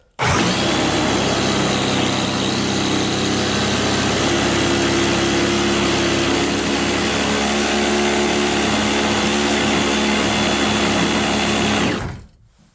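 A reciprocating saw fitted with a Craftsman demolition blade cuts through 1.5 by 1.5 inch square steel tube stock, giving a loud, steady, harsh buzzing rasp that runs unbroken for about twelve seconds before cutting off abruptly.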